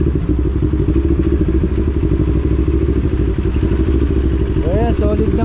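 A modified NK400 motorcycle engine runs with a close, continuous throbbing and clattering drone, with someone talking over it.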